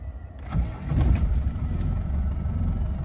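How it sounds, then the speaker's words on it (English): The 300Tdi diesel in a 1999 Land Rover Defender 90 cranks briefly and catches, then settles into a steady, rumbling diesel idle heard close by. "quick video of start-up and idling on this 300 TDI"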